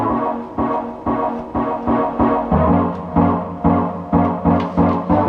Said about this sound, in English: So its synth sounds like this.